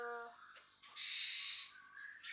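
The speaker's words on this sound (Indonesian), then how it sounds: "5 jenis burung yang saya tangkar: 1 murai, 2 cicak rawo, 3 jalak, 4 kacer, dan ciblek." Caged songbirds kept for breeding, including magpie-robins, starlings and shamas, chirp and whistle in bright high calls, a short pitched phrase followed by a sustained trilling, fairly faint and alone.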